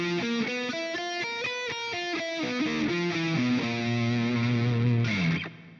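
A distorted electric guitar with a chorus-like effect runs a tritone symmetrical scale as a quick ascending run of picked notes. It then holds a sustained bend before cutting off, loud and close with no talking.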